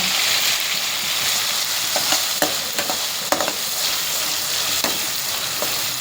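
Oil sizzles and spits steadily in a pan while egg biryani is cooked, with scattered clicks and scrapes of stirring over the continuous frying hiss, close and fairly loud.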